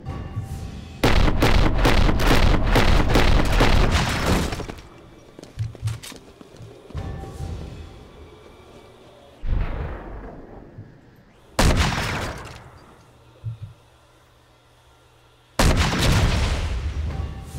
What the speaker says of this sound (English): Those explosions will kill you, by the way, if you're in the way.